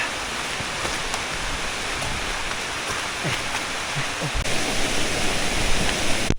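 Sudden rain pours down during a long-distance ultra trail run, a dense steady hiss that swells a little louder toward the end, with no voices over it.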